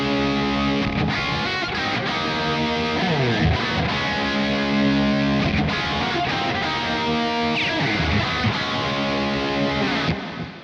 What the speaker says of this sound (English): got a lot of reverb there and some delay.